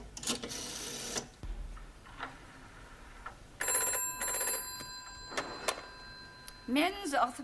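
Indoors a telephone rings in a clear, close burst of bell tones, with people talking in the room before and around the ringing.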